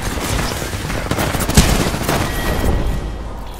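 Gunfire in an Apex Legends shootout: dense rapid bursts of game shots and impacts, loud and continuous, with one heavier blast midway and no talking.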